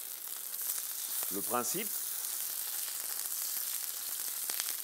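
Salmon searing skin-side in a splash of olive oil in a frying pan: a steady, bright sizzle runs throughout while a voice speaks briefly over it.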